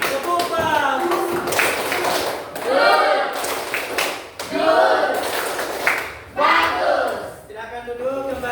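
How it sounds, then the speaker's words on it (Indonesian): Children in a classroom clap in short rhythmic bursts of a patterned praise clap, the group noise loud and near, with voices chanting along between the claps. "Silakan tepuk bagus."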